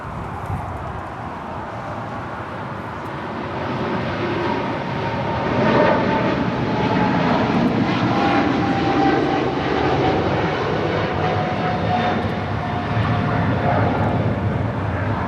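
A heavy cargo plane taking off at LAX, its jet engines swelling from a distant roar into a loud, sustained rumble that holds steady to the end, with no talk over it.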